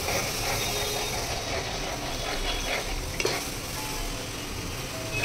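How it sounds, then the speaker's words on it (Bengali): Semolina fries in ghee with milk added for gulab jamun dough while being stirred, giving a continuous close hiss and bubbling sizzle broken by one brief clink of utensil. "এবার ঘিয়ের মধ্যে সুজিটা দিয়ে দিচ্ছি, দিয়ে ভালো করে আমি ভেজে নেব। এর মধ্যে দুধ দিয়ে দিচ্ছি।"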